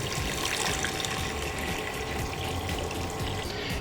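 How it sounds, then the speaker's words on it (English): Water pours steadily into a cooking pot for boiling rice, a loud, continuous close rush and splash with no break across the whole stretch. "To cook the rice in order to make it soft and be able to produce artisanal gelato, you just have to put water inside of your pot."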